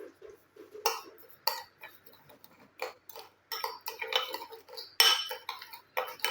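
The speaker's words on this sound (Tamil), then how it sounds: "இப்போ பார்த்திங்கன்னா சர்க்கரை, காஃபி, எலுமிச்சை சாறு வந்து நல்லா வந்து கலந்து விட்டுருங்க." A spoon stirs sugar, coffee powder and lemon juice in a bowl, making quiet, irregular clinks and scrapes, close up and alone, with short pauses between bursts.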